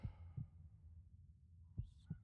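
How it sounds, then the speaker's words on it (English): Heartbeat sound effect from the horror video game Penumbra: Overture, a slow, low, muffled thumping with four beats spaced unevenly across the moment, steady rumble underneath and a brief higher tone near the end. "More heartbeats."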